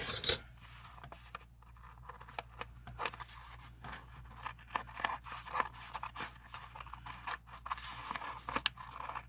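Paper or card trimmed with scissors while making a watercolour folio, giving a series of quiet crisp snips and crunches at close range, irregular in rhythm, with a low steady hum underneath.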